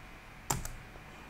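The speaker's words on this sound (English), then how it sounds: "I will hit enter." Computer keyboard keys pressed during a Proxmox VE 8.4 install on KVM: one sharp click followed by a second, softer one, close up and alone in quiet room tone.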